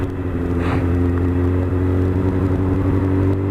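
A motorcycle pulls away in second gear with the clutch fully out, its engine droning steadily and loudly at low revs with little change in pitch.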